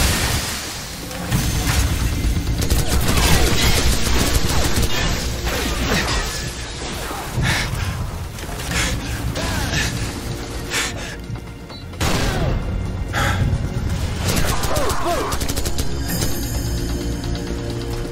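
Sustained Call of Duty 4: Modern Warfare battlefield gunfire rattles on for the whole stretch, dense and loud, punctuated by repeated heavy bursts and crashes with only brief lulls.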